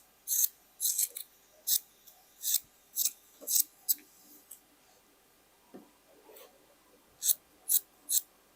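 Scissors cutting through old denim jeans in a series of crisp, close snips, in two bursts of rhythmic cuts separated by a short quieter stretch of faint handling.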